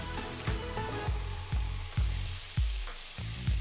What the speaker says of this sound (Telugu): ఆ తర్వాత చిన్నగా తరిగిన మూడు టొమాటోలు వేస్తున్నాను